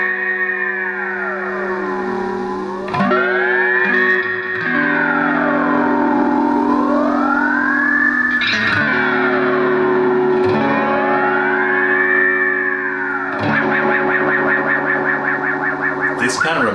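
A Digitech XP300 Space Station guitar effects pedal produces alien sounds: swooping, siren-like warbling tones that rise and fall with ring-modulated, pixelated textures and sharp bursts, loud and continuous.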